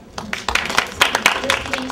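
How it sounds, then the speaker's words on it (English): A live audience at a neo soul show in Philadelphia claps for a performer, with a steady patter of hands over the room for a couple of seconds. "Please give her a round of applause."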